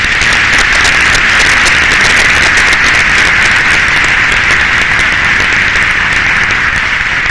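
An audience at a national conference applauds, dense continuous clapping filling the room, loud and steady throughout.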